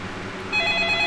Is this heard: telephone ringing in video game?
yes